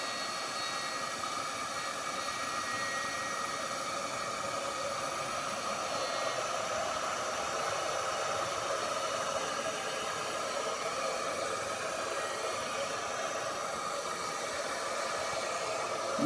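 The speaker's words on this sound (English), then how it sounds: "I'm going to heat this with my heat tool." A heat tool blowing a steady, even rush of hot air to warm blue craft foam, a constant broadband hiss close by that holds unchanged for the whole stretch with no voices.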